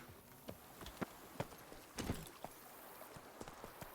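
Horse hooves clip-clopping in the video game The Witcher 3, faint, uneven thuds at a brisk pace, heard quietly alone over background noise.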